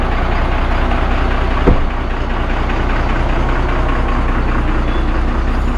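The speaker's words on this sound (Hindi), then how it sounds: "आप देख सकते हो पूरा ट्रैफिक लगा हुआ है यहाँ पे और ये 6 लेन हाईवे पूरा फंसा हुआ है" Engines idling among stationary vehicles jammed on a six-lane highway, a steady low rumble heard from inside a car, constant and loud with one brief bump partway through and no speech.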